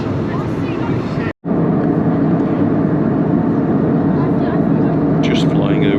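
Steady airplane cabin roar aboard an EasyJet flight descending toward Palma de Mallorca, a dense continuous drone broken once by a split-second dropout.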